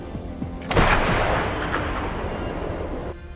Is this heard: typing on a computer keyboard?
no